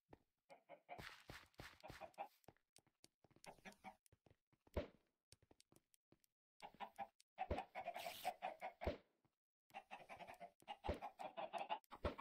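Chickens in the Minecraft video game cluck in short, irregular bursts, with clustered soft clucks spread across the stretch and a few quiet gaps between them.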